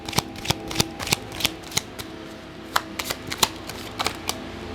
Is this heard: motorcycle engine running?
no